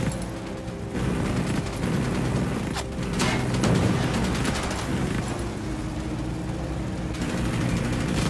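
Video game gunfire in Ghost Recon Wildlands: dense, continuous bursts of shooting and blasts rumble through a combat scene, steady and loud from start to finish with no talking.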